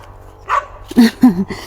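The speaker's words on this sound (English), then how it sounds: "There's a dog there." A single dog in a Kenyan village gives a few sharp, close barks in quick succession, loud and clear against a quiet rural backdrop.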